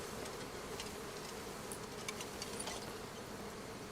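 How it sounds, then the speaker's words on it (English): Buzzing bees swarming around beehives in the fantasy game Crimson Desert, a continuous soft insect hum, faint and steady throughout, with no talk. "Oh, that's a lot of bees."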